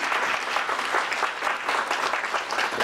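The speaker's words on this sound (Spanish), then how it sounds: "¡Que se escuche el aplauso para el señor gobernador!" A crowd applauds the governor at a public gathering, steady and fairly loud clapping throughout the short stretch with no voices over it.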